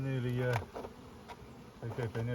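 Honeybees buzz around beehives, a close, humming drone with tones that rise and fade as insects fly near, broken by a short pause in the middle.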